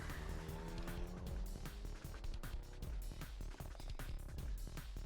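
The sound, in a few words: taxi engine revving as it pulls away, video game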